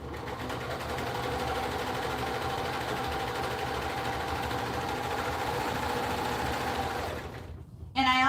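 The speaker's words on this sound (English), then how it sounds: "So that is how I serge all of my items" A serger sewing machine runs steadily for about seven seconds in a dense, continuous mechanical whir while stitching finished inventory items, then stops briefly before starting again.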